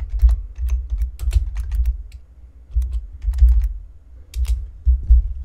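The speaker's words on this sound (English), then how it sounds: "Why is my keyboard always so close to the freaking microphone?" Computer keyboard typing right beside the microphone, with bursts of rapid, clacky keystrokes and heavy, thumpy low end, broken by short pauses, with no voice over it.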